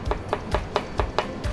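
A knife slices through cabbage on a cutting board in a steady rhythm, seven or eight crisp thuds, close up with no talking.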